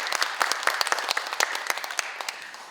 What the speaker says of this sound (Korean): 서로 환영의 의미로 박수 부탁드리겠습니다.